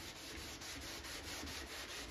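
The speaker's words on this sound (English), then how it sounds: "sand both sides like this, getting all the way into the corner with my sandpaper" Sandpaper rubbing back and forth on the wooden panel of an arcade cabinet, worked into the corners, giving a quiet, steady rhythmic scratching up close.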